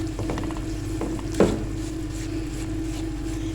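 Gram flour roasting in ghee in a pan, a soft steady sizzle with scraping stir strokes and one sharper clack, close and quiet without speech.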